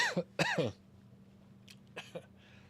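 A man coughs and clears his throat in a few harsh bursts up close, with a quieter throat-clearing rasp following after a pause, over a low steady hum.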